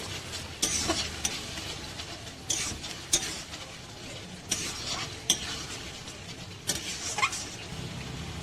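Sauces stirred into egg chilli in a pan, a spatula scraping and knocking against the pan in repeated strokes over a steady background sizzle, close and continuous without speech.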